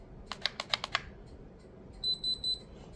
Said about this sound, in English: you gotta tap the trigger real light 3 times, and then you hear that little beep